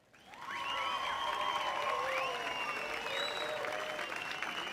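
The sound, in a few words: applause sound effect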